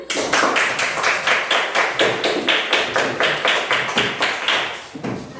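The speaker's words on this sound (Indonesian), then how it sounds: "Beri tepuk tangan." A class claps in unison after a group presentation, a loud, close run of rhythmic, evenly spaced claps, about four per second, stopping briefly near the end and then starting again.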